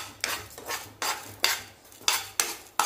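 Urad dal roasting in a little oil in a kadhai, a spatula scraping and stirring in steady repeated strokes, roughly every half second, close and clear with no talking.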